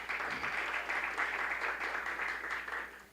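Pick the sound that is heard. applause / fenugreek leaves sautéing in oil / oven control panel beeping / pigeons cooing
applause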